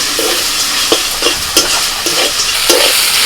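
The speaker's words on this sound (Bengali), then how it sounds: "আর একটু নাড়াচাড়া করে ভেজে নেবো শাকটা" Kalmi greens with crushed fried bori sizzle loudly in a pan, with a continuous hiss and regular stirring scrapes every half second or so, and no voices.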